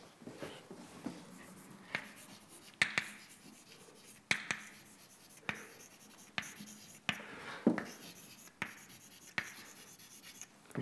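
Chalk or marker scratching and tapping on a board during a physics lecture on active matter, in short strokes with sharp taps, fairly close and moderately loud, with no talk.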